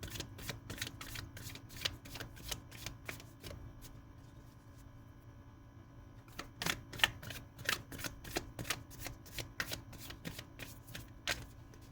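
Playing cards are handled and shuffled from a deck, giving a quiet, close run of crisp snaps and flicks that come in uneven bursts, with no voices.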